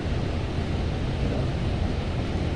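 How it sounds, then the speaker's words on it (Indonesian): Steady broadband rushing of central air conditioning fills a closed room in a newly built government office building, a constant loud hiss with no breaks and no voices. "Tingkat hembusan angin atau noise AC sentral itu sangat dominan."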